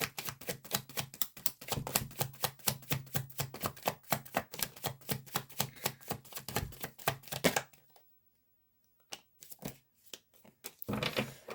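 Rapid rhythmic flicking and slapping of tarot cards being shuffled, close up, stopping abruptly, then a few soft taps and a final riffle.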